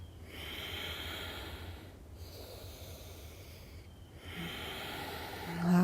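Slow, deep breaths during a yoga core workout, with long, audible hissing inhales and exhales repeating in a steady rhythm, close and fairly soft, with no talking.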